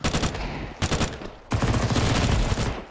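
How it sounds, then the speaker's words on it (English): Automatic rifle fire in Counter-Strike 2, loud, close bursts of rapid shots broken by short pauses, then a longer sustained burst to the end, alone without talk. "Do I have burst mode on? Or is it just shooting like that?"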